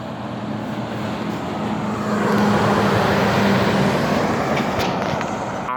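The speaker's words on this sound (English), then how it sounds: "Also, a truck coming eastbound in 2015 Freightliner" A 2015 Freightliner FLD sleeper truck passes eastbound on a road in Blue Lake, California, with a loud, broad rumbling roar that swells as it goes by and then eases off.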